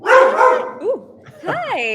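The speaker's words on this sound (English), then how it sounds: "Sorry, that's my dog at the back." A pet dog barks and yips in the background of an online talk, several short barks with a whimpering tone, while a person greets others over it.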